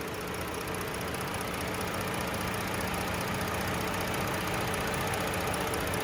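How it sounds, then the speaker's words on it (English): A 2018 Ford Explorer Limited's 3.5-liter gasoline engine idles smoothly, a steady, even drone without change, a continuous mid-range rumble with a faint high whine and no voices. "nice and smooth running engine, no odd noises or vibrations"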